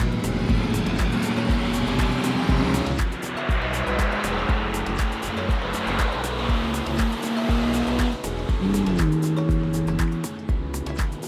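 Small go-karts race around a go-kart track in a steady, loud run of buzzing engine drones whose pitch rises and dips as karts pass and shift, with occasional tyre noise and no talk.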